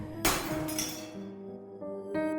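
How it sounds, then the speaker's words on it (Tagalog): A dropped drinking glass hits and shatters in one sharp, bright crash, followed by ringing, echoing tones that linger and fade. "Pagbagsak ng baso ay agad itong nabasag at naglikha ng umaalingaw-ngaw na ingay."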